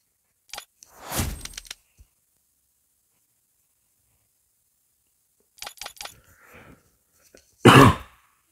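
Coughing in a quiet room comes as a few separate bursts: one harsh cough early, a cluster of short coughs later, then a final loud cough near the end, with silence between them.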